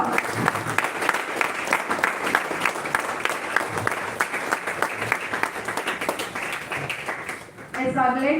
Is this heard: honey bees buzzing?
no